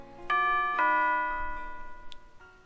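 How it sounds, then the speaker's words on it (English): A melodic electronic doorbell chime from the video game Nekopara, two bright tonal notes ringing out and decaying, followed by a couple of faint higher blips. "Interesting doorbell."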